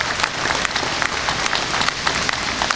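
Dense, steady applause from an audience at an entertainment show, honouring local and state elected officials, with many hands clapping continuously at close range and no speech over it.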